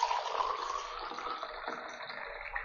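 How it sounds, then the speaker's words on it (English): Water is poured into a glass, giving a steady, thin trickling splash that fades slightly over a few seconds, alone and fairly quiet. "The second step is the height from which you are pouring the water."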